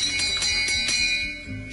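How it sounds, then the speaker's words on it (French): A bell rung in a house to call people together in the living room, several bright metallic strikes in quick succession with ringing tones, loud and close. "La cloche sonne, donc rassemblement dans le salon"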